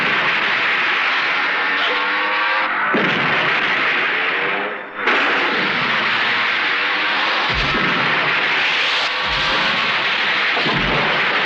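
A blast from a Hindi action film starring Ajay Devgan: a loud, continuous rumbling roar with echo that fills the whole stretch, dipping briefly once before surging back.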